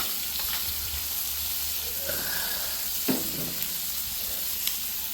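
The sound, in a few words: steak sizzling and steaming on Member's Mark griddle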